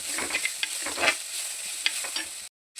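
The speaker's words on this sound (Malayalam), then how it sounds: "ഇഞ്ചിയും വെളുത്തുള്ളിയും പച്ചമുളക് കൂടി ഇട്ട് കൊടുക്കാം കേട്ടോ." Ginger, garlic and green chili fry in a pan for a prawn roast while a spoon scrapes and stirs, giving a soft sizzle with rhythmic scraping bursts before it cuts to silence at the end.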